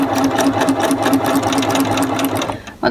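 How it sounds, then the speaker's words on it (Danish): A BERNINA sewing machine stitches steadily along a seam in a home sewing demonstration, a loud close rapid mechanical whir that runs continuously and eases off briefly at the very end. "Så syr jeg stille og rolig over på den andre siden."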